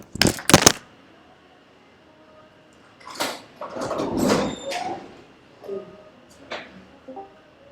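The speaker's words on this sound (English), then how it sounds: "I need to open the door." Door being opened indoors, with sharp knocks or clacks at the start, then a longer rattling and sliding of the door mid-clip, followed by a few softer thuds and clicks, all close and alone without talk.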